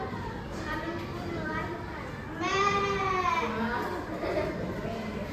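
Children in a sixth-grade classroom imitating a goat, bleating in wavering, quavering voices, with a louder burst of overlapping bleats midway over a steady murmur of the class.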